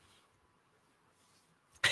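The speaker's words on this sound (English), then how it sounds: "Starting to come down with a little coughing." A single sharp, close cough breaks out suddenly at the end of a near-silent stretch.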